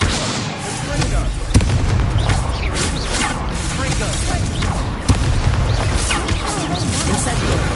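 Incendio fire spell blasts in the Hogwarts Legacy video game burst repeatedly through busy, loud combat noise, with two especially sharp hits standing out.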